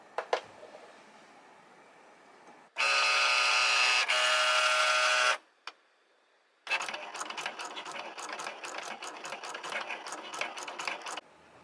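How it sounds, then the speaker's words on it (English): A Cricut cutting machine working on cardstock, with a steady high motor whir during drawing, a pause, then a busier run of rapid rhythmic clicks and buzzing during cutting, close and moderately quiet. "just let the machine do its drawing, and then it will do its cut automatically once it's finished the draw"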